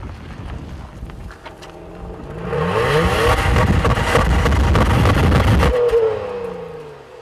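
2014 Honda Pilot engine revving up to 5,500 RPM, paired with a 5-speed automatic, a steady rising drone that swells loudly for a few seconds and then drops off abruptly, heard close with some wind noise.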